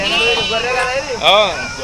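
Sheep at a weekly livestock market bleat in wavering, quavering cries close by, with a louder bleat near the end and market noise underneath.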